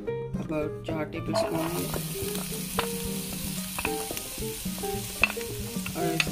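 Finely chopped onion fries in a tablespoon of hot oil in a pan, giving a steady sizzle with occasional stirring taps while someone talks over it.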